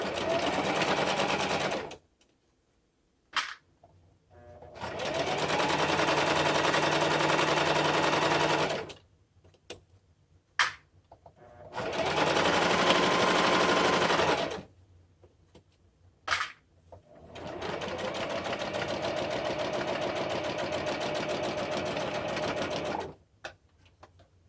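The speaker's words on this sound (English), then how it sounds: "we're going to sew about 1/4 of an inch down the top" A sewing machine stitches a quarter inch down the top edge of a fabric pouch, running in three steady bursts of a few seconds each with short pauses and small clicks between, close and loud, with no talking.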